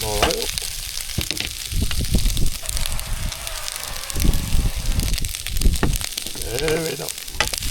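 Rice fries in extra virgin olive oil in a pan, sizzling loudly and steadily with bursts of crackle and scraping stirs, while a person talks intermittently over the cooking.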